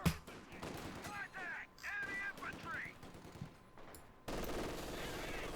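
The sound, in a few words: machine gun fire in Company of Heroes 2 video game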